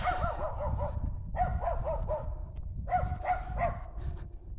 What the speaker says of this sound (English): there comes another doggy. That's his little Jack Russell Terrier.